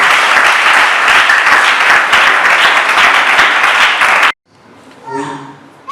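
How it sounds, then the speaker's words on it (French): Dense, loud applause from the guests at a wedding ceremony rolls on steadily for about four seconds, then stops abruptly as a voice begins speaking. "On peut applaudir pour lui."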